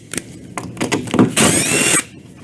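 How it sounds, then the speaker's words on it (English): A power drill boring holes, with a few short bursts and bumps, then a loud sustained whining run of about half a second before it stops, close and alone. "So I'm going to drill these"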